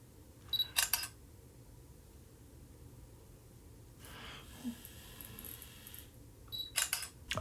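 Camera shutter clicks from a small camera being tried out on a tripod, a pair of sharp clicks near the start and another pair at the end, with faint handling noise and breathing in between.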